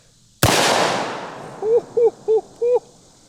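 A single loud, close blast from a triple-aught buckshot .410 shell fired from an HK P2A1 flare gun, followed by a decaying roar and then four short voice-like yelps.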